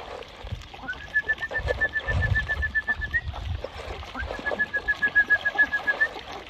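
Hundreds of birds gather at a morning feeding, with pigeons or doves cooing in soft repeated pulses and a long, thin whistling call rising twice over low farmyard bustle, close and moderately loud.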